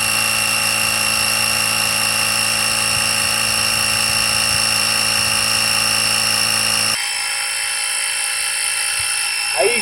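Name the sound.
VTOMAN X3 jump starter air compressor pumping up a tire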